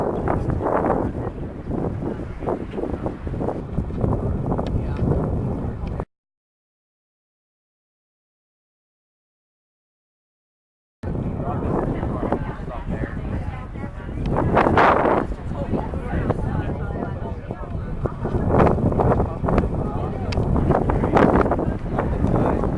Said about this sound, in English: You can hear the wind and all.